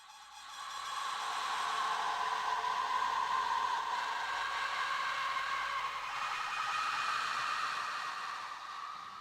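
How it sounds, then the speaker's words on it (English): Processed woman's scream, a short cry stretched out in Metasynth and layered beneath jet engine noise, forms a continuous roaring wash with a faint wavering tonal edge, swelling in and holding steady. "took the sound of a woman screaming, a very short sound, and I used Metasynth and extended it, and we put it under the sound of the jet engines."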